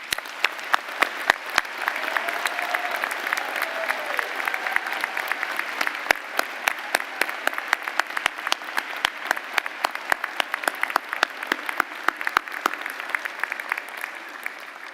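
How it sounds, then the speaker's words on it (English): An audience at a university spring honors convocation applauds the recognized students, steady prolonged clapping with sharp individual claps standing out, lasting the full fifteen seconds. "join me as we applaud all the students recognized here this evening"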